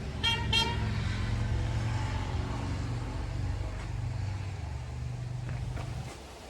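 Two short car horn toots ring out near the start over a steady low engine rumble, followed by continuous vehicle noise, inside a farm granary.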